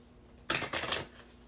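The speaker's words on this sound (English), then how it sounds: "Shuffle some cards while you guys think of questions." A deck of cards shuffled once, a quick riffle of crisp flutters lasting about half a second, close and moderately loud over quiet room tone.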